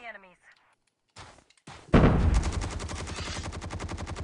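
Sniper and rapid automatic gunfire in the mobile shooter game COD Mobile begins after brief game sounds and keeps going as a dense, loud, continuous barrage to the end.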